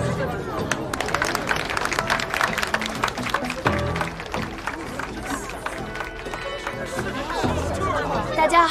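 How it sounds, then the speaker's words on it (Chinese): An awards-ceremony audience claps warmly as a finalist is called up, busy, irregular clapping mixed with crowd murmur and voices throughout. "让我们以热烈的掌声，有请今天的第三位入围选手发表获奖感言"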